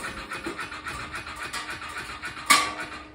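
A 2023 Honda Foreman Rubicon 520 DCT ATV, which has a transmission fault, starts up with a sudden sharp burst of noise after about two and a half seconds of steady low mechanical hum.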